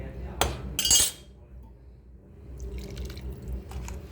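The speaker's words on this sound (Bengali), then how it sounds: "এবার জল দিয়ে দেবো।" Water is poured into a pan of sliced white potatoes for a plain potato dish, starting with clinks and splashes, then a softer trickle continuing in the background.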